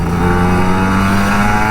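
Older Kawasaki Ninja RR 150 motorcycle engine revving loud and close, a steady buzzing two-stroke drone that fills the whole moment without speech.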